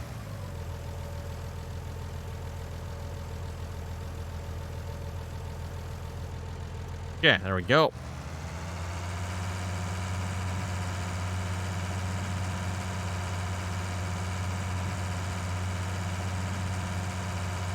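A steady, low tractor engine in Farming Simulator 19 idles throughout, its hum deepening slightly after a brief spoken remark partway through.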